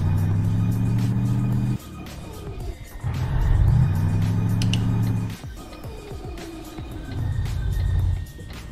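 Iveco Turbostar truck engine in Euro Truck Simulator 2 accelerating, a deep rumbling drone that rises in pitch through several gear changes with brief dips between them.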